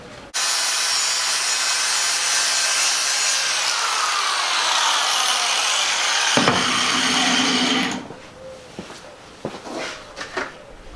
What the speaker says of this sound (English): It seems like it's easier for me to sharpen it with a hand grinder versus a stationary grinder.